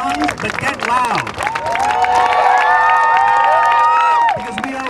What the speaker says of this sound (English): Stamp your feet, clap your hands, shout at the top of your lungs, but get loud.